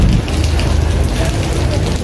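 Rain falling outdoors before a concert, a dense, steady hiss of drops on surfaces, loud and close with a low rumble underneath.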